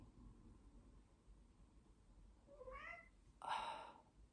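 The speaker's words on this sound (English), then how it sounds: "If you could see this cat right now." A house cat meows twice in a quiet indoor room, a short faint cry followed by a louder, longer one, with no talk over it.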